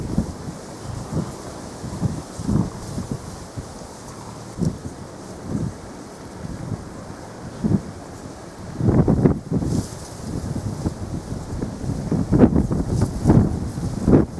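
Wind blowing outdoors beside a river near a bridge, rumbling and buffeting the microphone in uneven gusts that swell louder toward the end, with no voices.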